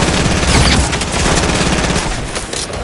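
Rapid, loud bursts of automatic gunfire during a Fortnite firefight, dense overlapping shots close by for a few seconds with almost no pause.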